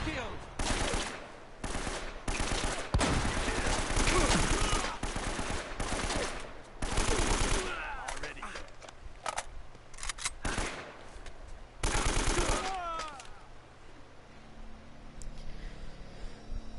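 Heavy automatic gunfire in the action game Uncharted: Drake's Fortune, long loud bursts and volleys repeating over the stretch, with quieter gaps and a faint background score between them.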